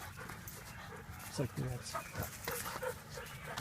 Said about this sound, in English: Don't let her jump on the dogs.